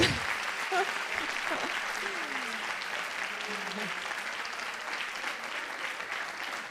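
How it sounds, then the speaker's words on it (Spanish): Sustained audience applause fills the room at a talk, steady and dense throughout, with faint voices mixed in underneath. "Un aplauso para Carlos"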